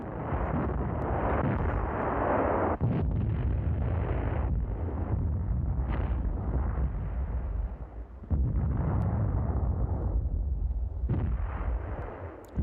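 Light field howitzers fire in a rough outdoor barrage, a series of loud, booming blasts with heavy low rumble and long decaying roars between shots, some overlapping and others spaced a few seconds apart.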